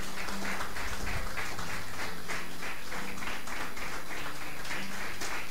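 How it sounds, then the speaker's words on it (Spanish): Church congregation applause during a sermon, a loud, continuous wash of clapping with a faint rhythmic pulse, close and unbroken, with no speech over it. "Dele un fuerte aplauso al Señor."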